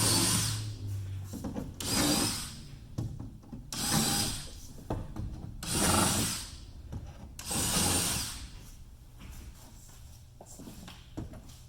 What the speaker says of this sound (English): you'll want to countersink each hole